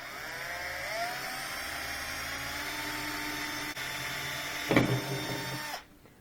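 A power drill runs steadily, boring a 3/32 pilot hole through aluminum on a porch light fitted with a dusk-to-dawn sensor; near, continuous whine with a brief harsher burst as the bit breaks through, then it stops.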